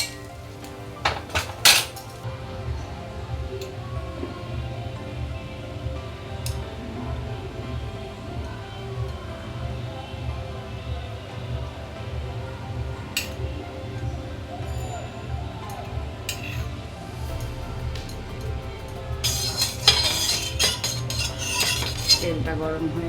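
Metal utensils clatter and scrape in a wok while fried rice is made, with repeated close clinks and stirring knocks against the pan. A voice speaks at times.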